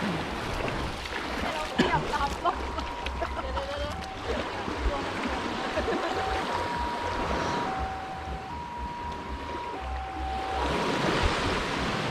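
Sea waves wash steadily onto Haad Rin beach on Koh Phangan, a continuous surf roar with wind, while people talk nearby and a faint tone sounds in the background.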